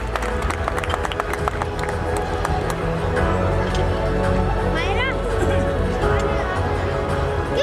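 Steady applause and crowd noise fill a school annual day function as students are welcomed, continuous and fairly loud, with an announcer talking over it.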